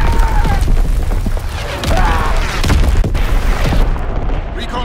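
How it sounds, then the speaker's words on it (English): Fritz X bomb explosions in the video game Call of Duty: loud, continuous booming blasts and cracking bursts overlapping with heavy low rumble, with game chatter and effects mixed in throughout. "Fritz X bomb mission underway"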